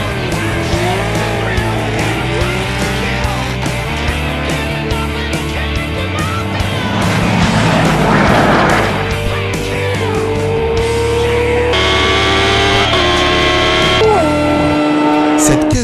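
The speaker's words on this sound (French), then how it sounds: "Une Mercedes AMG GTS et son V8 biturbo." A Mercedes-AMG GT S with a twin-turbo V8 accelerates hard in a drag race against superbikes, its loud engine note climbing and stepping through gear changes.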